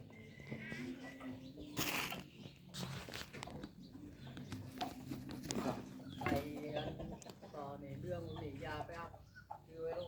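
Jungle fowl cluck and call in a forest, faint and scattered among rustling and people talking nearby.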